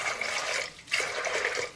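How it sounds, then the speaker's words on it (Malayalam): Water pours into a pressure cooker holding green peas, a short, soft splashing trickle with a brief dip partway through before the flow resumes. "അപ്പോൾ നമ്മൾ കുക്കറിലേക്ക് ഗ്രീൻ പീസ് ഇട്ടു. നമുക്ക് കുറച്ച് ആവശ്യത്തിനുള്ള വെള്ളം ഒഴിച്ച് കൊടുക്കാം"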